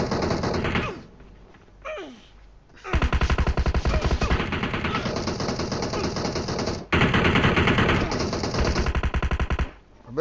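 Rapid automatic gunfire in a video game battle, two long sustained bursts of fast, evenly spaced shots separated by short gaps, loud and close.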